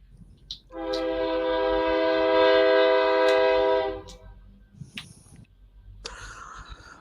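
A Union Pacific train horn blasts one long, loud, steady note for about three seconds beside a main rail yard, followed by quieter clanks and rumbles.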